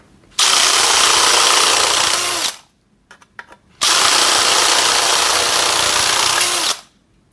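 A DeWalt shear attachment on a drill cuts sheet metal in two loud, close, continuous bursts of high whining, grinding noise, separated by a short pause of small clicks and taps.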